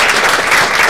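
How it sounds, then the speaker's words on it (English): Brief burst of steady audience applause closing a panel discussion on gender in the workplace, dense and even throughout one second with no voices over it. "clap."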